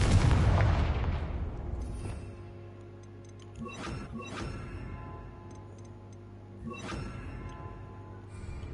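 Spell blasts from Confringo, a blasting curse in Hogwarts Legacy, erupt as a loud boom at the start, then several sharper cracking bursts follow at intervals over a lingering game ambience.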